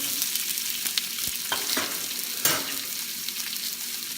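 Onion sautés in a pan for pancit bihon guisado, giving a continuous close sizzle with a handful of sharp utensil clicks and scrapes scattered through, with no one speaking.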